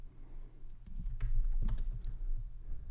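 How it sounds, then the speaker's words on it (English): Code is typed on a computer keyboard for a JavaScript TensorFlow tutorial: a quick, irregular run of close key clicks and taps, growing busier midway. "we're gonna go ahead and type model and then the compile method"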